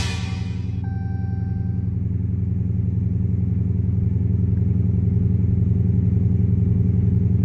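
A Dodge Challenger R/T engine idles steadily and loudly up close after a battery replacement, an even rumbling drone that starts with a short electronic chime and has no talking over it.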